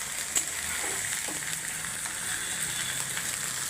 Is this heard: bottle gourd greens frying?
yes